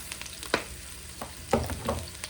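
Pork fries in a pan with a soft, low sizzle, broken by a few sharp knocks and clanks around the pan, close and fairly quiet.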